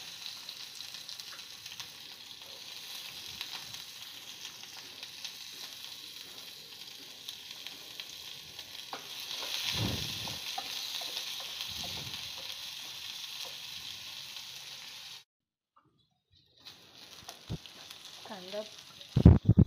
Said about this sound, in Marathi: याच भांड्यात मी आता तेल घातलं आहे आणि हे तेलावर हे कांदे परतणार आहे